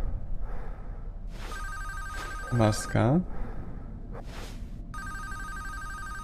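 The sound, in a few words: phone ringing in a Five Nights at Freddy's fangame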